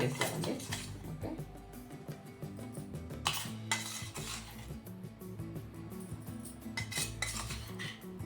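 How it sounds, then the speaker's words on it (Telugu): Spoon mixing ground masala into a green chili pickle in a metal bowl, with repeated scraping and clinking strokes in an irregular rhythm, close and fairly loud, with a voice talking over it. "దీన్ని మంచిగా కలుపుతామండి."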